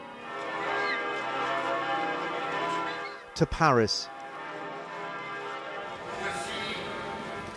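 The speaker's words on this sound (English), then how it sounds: "Throughout Europe, the bells of the great cathedrals tolled" Great cathedral church bells tolling across Europe, a rich, sustained ringing wash of overlapping bell tones heard under a narrator's voice, with a brief burst of speech cutting in midway.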